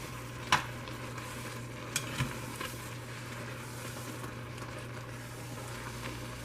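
A metal spoon stirring noodles in a pot while cooking: faint scraping and a few light clinks over a steady low sizzle and hum, with no talking.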